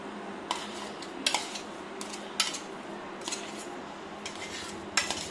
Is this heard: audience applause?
no